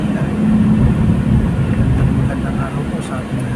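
Inside an LRT light-rail train riding through Manila, a loud, steady low rumble of wheels and motors carries on without a break for a few seconds.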